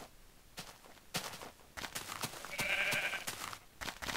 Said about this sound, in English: Oh, sheep. You and your woolness.